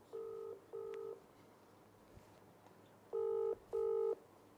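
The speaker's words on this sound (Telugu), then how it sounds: "నందు వాళ్ళకి కూడా కాల్ చేసే ప్రయత్నం చేద్దాం." A phone number is dialed on a keypad, giving four short electronic tones: two quick beeps, a pause, then two louder beeps, clear and close with no talk.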